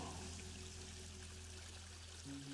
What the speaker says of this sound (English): listening to the peaceful quietness of water